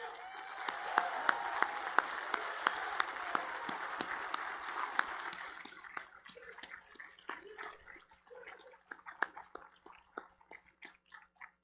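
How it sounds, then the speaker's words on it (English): Commencement crowd applauding the graduating class at a boarding school ceremony, with dense clapping and sharp individual claps at first, then thinning out into scattered, fainter claps as it dies away. "Let's give this group another round of applause."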